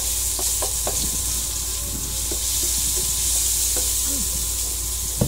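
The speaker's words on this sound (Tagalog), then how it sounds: "Igisa po natin ng luya, sibuyas, bawang." Ginger, onion and garlic sautéing in hot oil in a pan, a loud continuous sizzle and hiss with occasional soft stirring clicks, steady throughout with no talking.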